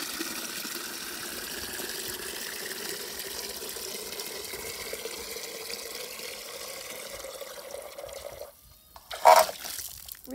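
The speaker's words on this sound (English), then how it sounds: "Fill the watering can up." Water from a garden hose runs steadily into a watering can for a sustained stretch, a constant hissing pour that cuts off near the end, followed by a brief splash.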